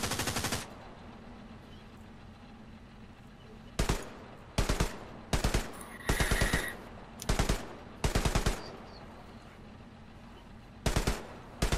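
Tank cannon fire and machine-gun bursts in Hell Let Loose, a WWII shooter, ring out as sharp loud volleys: a long burst at the start, then repeated short staccato bursts with brief gaps between them.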